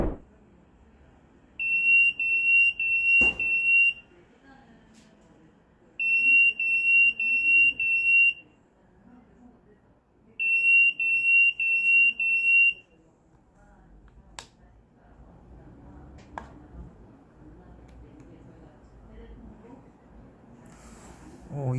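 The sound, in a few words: carbon monoxide alarm sounding during gas test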